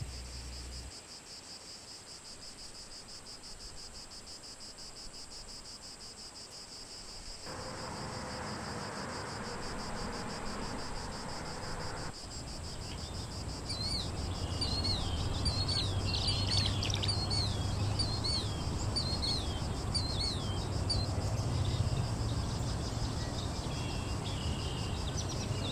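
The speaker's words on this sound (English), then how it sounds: "Cool summer evenings are greeted by the songs and calls of insects, frogs, and birds." On a cool summer evening outdoors, a constant chorus of crickets and insects rings steadily, joined midway by repeated bird chirps and a fuller layer of low calling, moderately distant and with no voices.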